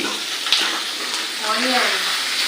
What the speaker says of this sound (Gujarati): જિંજર ગાર્લિકનો પેસ્ટ તેલ ગરમ થાય એટલે તરત નાખી દેવાનું છે એમાં પછી એમાં નાખવાના છે કાંદા